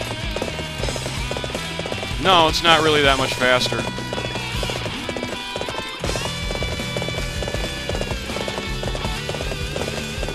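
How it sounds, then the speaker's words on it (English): Rapid clip-clopping hooves beat in a steady galloping rhythm in the video game Dynasty Warriors 7, with a brief horse whinny near the start and someone talking over it. "Get on the horse"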